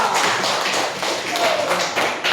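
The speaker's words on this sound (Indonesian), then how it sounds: "Sekali lagi kita tepuk tangan dulu untuk semua" A room full of listeners, with a teacher present, claps together in a thick, continuous wash of applause, close and fairly loud, holding steady for a couple of seconds.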